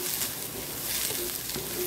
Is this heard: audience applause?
no